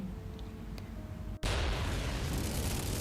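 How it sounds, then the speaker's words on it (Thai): A dramatic explosion sound effect in an audio drama, starting with a low hum, then a sudden loud blast after a brief silent gap, followed by a sustained roaring rumble. "เสียงระเบิดกึกก้องกำปนาต"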